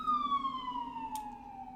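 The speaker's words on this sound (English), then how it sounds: "I don't know if you can hear that siren" A siren wails on one long, slowly falling tone, faint and distant.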